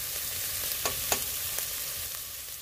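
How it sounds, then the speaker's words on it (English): Onions with crushed red pepper, herbs and garlic cook in a pot for one-pot spaghetti and meatballs, giving a steady close sizzle with a few soft clicks of a spoon against the pot and no voices. "I'm just gonna let the onions cook a little bit"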